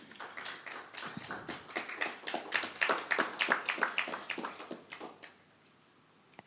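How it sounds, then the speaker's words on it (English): Scattered applause from a small conference audience, a few pairs of hands clapping unevenly for several seconds before thinning out and stopping, heard from across the room. "I can only hear claps from this table."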